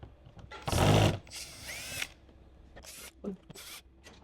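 A power drill driving screws while installing a Nissan 370Z Nismo front bumper whirs in several short bursts, the loudest early on, with brief pauses between runs and faint clatter in the gaps.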